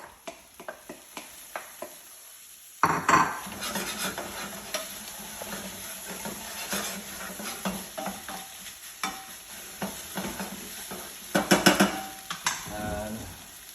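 Veggies and meat stir-fried into fried rice in a pan, quiet clinks give way to a sudden sizzle, then repeated scraping and tossing strokes with metal utensil taps over a steady frying hiss.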